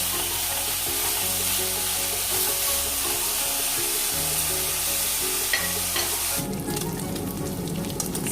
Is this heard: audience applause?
no